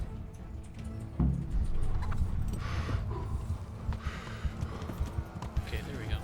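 Rhythmic hoofbeats from a horse clopping along in the video game Kingdom Come: Deliverance, with a voice talking over them throughout.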